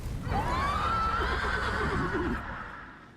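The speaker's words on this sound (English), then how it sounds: "Oh, and a horse?" A horse neighs once in the video game Lords of the Fallen, a loud, close whinny with a rising then wavering pitch lasting about two seconds before fading into low ambience.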